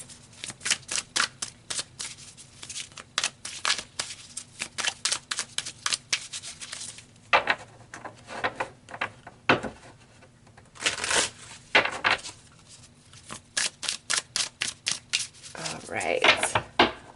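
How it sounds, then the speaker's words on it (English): Tarot cards being shuffled and pulled during a reading, with bursts of rapid riffling flutters and slaps, separate card snaps and pauses, close and clear across seventeen seconds, a voice talking in places. "So let's pull some more cards."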